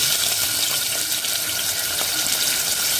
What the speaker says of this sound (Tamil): இந்த சிக்கனை நல்லா எண்ணெயிலே கொஞ்சம் வதக்கிக்கலாம்